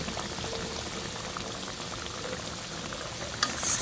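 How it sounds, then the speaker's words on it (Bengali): Snakehead fish curry bubbling in an open pot while being stirred, a steady close boiling hiss with soft liquid churning throughout and a brief louder scrape near the end. "ঢাকনাটা তুলে এলাম, একটু নেড়ে দিচ্ছি"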